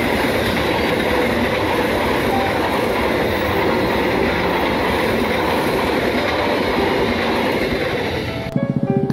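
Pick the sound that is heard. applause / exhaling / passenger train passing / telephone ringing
passenger train passing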